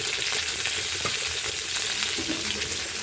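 Ginger and white onion sautéing in a hot pan, a dense, constant sizzle and frying hiss that stays loud and close throughout, with faint stirring scrapes and no talk.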